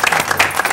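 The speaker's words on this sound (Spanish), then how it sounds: "Le vamos a dar un aplauso al Gabi." Audience applause at a talk with ex-footballer Gabriel Viglianti, a brief burst of dense clapping, loud and close.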